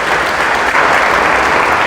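A church congregation breaks into loud, sustained applause, a thick continuous wash of many hands clapping close by with no talk over it.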